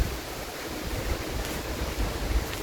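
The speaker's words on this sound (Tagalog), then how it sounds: "ang lakas ng hangin dito" Strong wind blowing outdoors at a garden plant nursery, a continuous loud rushing roar with gusty low rumbles buffeting the microphone and no talking.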